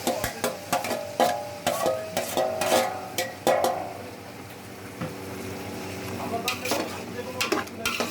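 Tomatoes going into a hot pan for Bengali fish biryani, met by loud sizzling and repeated clattering strokes of a spoon stirring against the pan, close up and rhythmic, easing to a steady fry midway.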